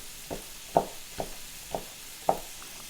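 Sausage sautéing in a pan for gumbo gives a low, steady sizzle, broken by about five sharp utensil knocks spaced irregularly across the pan.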